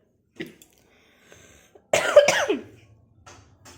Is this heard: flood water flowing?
no